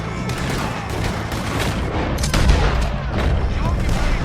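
Sustained gunfire in Red Dead Redemption 2 during a shootout with O'Driscolls, rapid overlapping shots and booms forming a dense, loud barrage, with voices mixed in.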